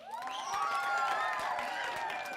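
A comedy magic show audience claps and cheers at a distance, with loud voices and whoops rising above scattered applause.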